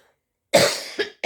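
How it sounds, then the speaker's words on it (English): A person with a lingering cold coughs close to the mic: one harsh burst, then two shorter coughs in quick succession. "Sorry, I'm going to cough."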